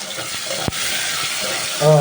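Ingredients for sautéed chicken with mung beans go all at once into a hot cooking pan, producing a steady loud sizzle with a brief clunk partway through and a voice rising at the end.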